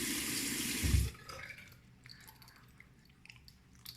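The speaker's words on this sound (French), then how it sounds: "Donc maintenant, on va rincer le visage." Running tap water splashes loudly as a face is rinsed during an evening skincare routine, then cuts off after about a second, leaving faint drips and quiet handling.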